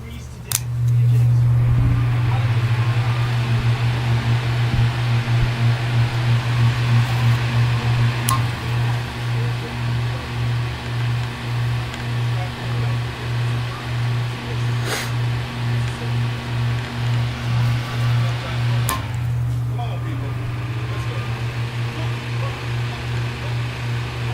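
A vintage Marvin window fan running steadily, a loud constant motor hum with a rhythmic pulsing whir from the spinning blades, and occasional clicks over it.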